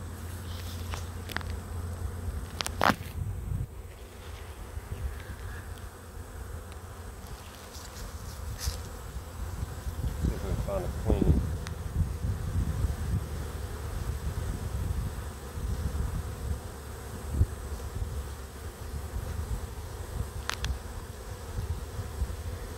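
A swarm of honeybees buzzes steadily and close throughout, a dense droning hum with individual bees zipping past the listener, plus a few faint knocks and rustles in the background.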